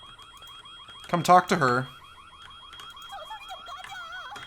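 Repeating electronic alarm beeps in the 2001 video game White Day, a steady pulsing tone running throughout while a voice speaks briefly in the middle.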